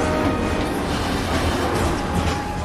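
Steady loud rumble of a train at Sector 5 Undercity Station in Final Fantasy VII Remake, a continuous rolling roar with faint rattling and no pauses.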